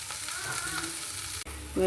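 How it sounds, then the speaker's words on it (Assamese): Onions and naraxingha leaves fry uncovered in a pan, a close continuous sizzle that cuts briefly near the end before a louder burst resumes, with no speech. "এতিয়া মই ঢাকনি নিদিয়াকৈ অলপ সময় ভাজি ল'ম"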